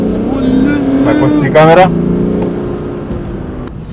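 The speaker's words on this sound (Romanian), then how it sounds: "motorul merge perfect" A flood-damaged 2014 BMW engine runs with a steady harmonic hum, swelling briefly in a quick rev midway before settling back to idle, close by, with someone talking over it.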